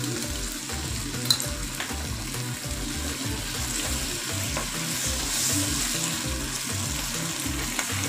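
A thinned mixture of tomato ketchup, chilli sauce and soy sauce bubbles and sizzles in a pan for chilli paneer, a continuous close frying hiss with low rhythmic stirring underneath.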